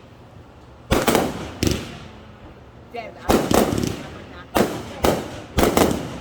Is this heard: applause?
no